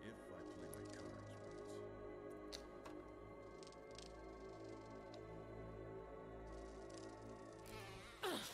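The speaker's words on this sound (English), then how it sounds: "It's a beehive of bees that are giant." Giant bees buzz around a beehive in Resident Evil, a steady multi-toned insect drone holding throughout with a sharper burst near the end, under faint game sounds.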